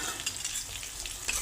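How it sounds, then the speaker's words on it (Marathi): Sliced onion and whole spices (cinnamon, cloves, peppercorns, shahjeera, bay leaf) fry in hot oil for mutton yakhni pulao, giving a steady close sizzle with a few soft stir scrapes and no talk. "चांगला गोल्डन ब्राऊन होईस्तोवर आपण परतून घेऊ तेलामध्ये"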